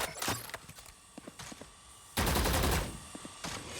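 Rifle fire in the shooter game Valorant, aimed through a wall at a Boombot: a short burst, scattered lighter clicks, then a longer, louder spray of rapid shots.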